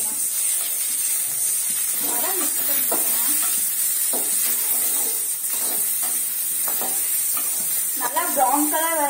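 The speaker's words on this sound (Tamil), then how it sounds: "இப்ப கொஞ்சம் கடுகு போட்டுக்கலாம்." Mustard seeds frying in hot oil for samosa filling, a continuous hiss with scattered crackles and stirring scrapes, close up, with faint voice-like sounds in the background.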